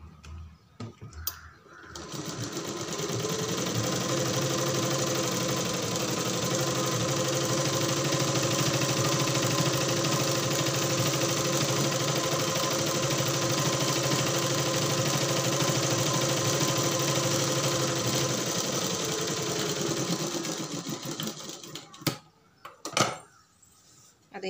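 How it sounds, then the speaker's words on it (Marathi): A sewing machine stitches a three-quarter-length sleeve in one steady, fast run of about twenty seconds, with soft handling noises before the motor starts and after it stops. "या पद्धतीने बघा आपण टिप मारून घेतली।"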